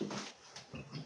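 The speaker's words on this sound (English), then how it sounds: "That's my dog barking because there's a dog down here that's in season." A dog gives a short, soft whimpering yelp close by, a faint brief call with no talk over it.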